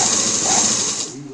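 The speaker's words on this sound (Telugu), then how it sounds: "ఇలా జరుపుకుంటూ కుట్టుకోవాలి." Sewing machine stitching tucks in a blouse lining, a close steady whirring run that slows and fades at the end, with a voice speaking over it.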